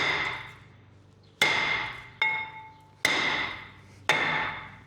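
A hammer strikes a brake rotor on a Kia Sorento to knock it loose from the hub. Four loud, close, ringing metallic blows land at uneven intervals, each leaving a shimmering decay, with the tail of an earlier hit fading at the start and no talk.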